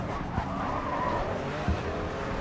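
Car tires in the Grid 2 racing video game skidding under hard braking, a sustained squealing hiss over steady engine noise with a couple of brief thumps, fairly loud and continuous.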